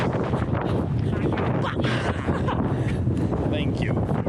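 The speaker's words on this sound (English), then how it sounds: "The wind's gonna blow our hut away." Strong wind buffeting the microphone on a rainy hiking trail to Lulumahu waterfall on Oahu, Hawaii, a loud continuous roar with gusts, and a voice speaks over it.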